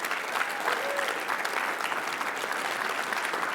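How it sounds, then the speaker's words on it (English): Steady crowd applause at a conference, a full, even wash of clapping from a sizeable audience, with a brief voice or whoop briefly poking through early on. "can we give a round of applause to Molly and Jen"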